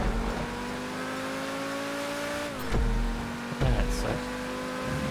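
Game cars race in GTA, with a steady engine drone that shifts in pitch and a couple of brief skids or impacts. A voice talks over the engines.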